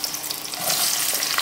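Chopped onion and a teaspoon of ginger-garlic paste dropped into hot oil, a close, steady hiss of frying that swells louder partway through as the ingredients hit the pan and keep sizzling.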